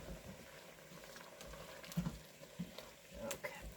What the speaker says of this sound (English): It's a hard boil.